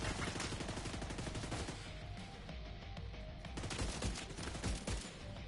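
Marksman rifle gunfire in the video game The Division 2, dense rapid shots and impacts blending into continuous loud battle noise without speech.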